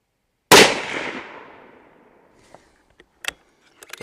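A single loud rifle shot from a Ruger .308 being zeroed at 100 yards, a sharp blast trailing off over about a second and a half, followed by a few faint clicks and small knocks.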